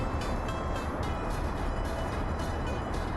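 A train runs along a track in the Soviet city-building game Workers & Resources, a steady, dense rolling rumble with faint rhythmic clicks of wheels over rail joints throughout, with no talking.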